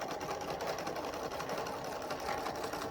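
A sewing machine stitches an apron in a steady, fast continuous whir, close and even throughout with no talking.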